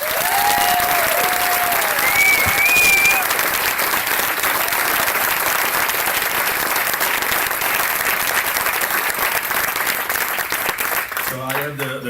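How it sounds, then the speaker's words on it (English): Sustained applause from an audience at a Child & Family Services keynote honoring a police captain and lieutenant, steady and dense throughout, with talk and brief tones over it and a voice starting near the end. "So if I get a round of applause for Captain Sean Layton and Lieutenant Nicole Ledoux."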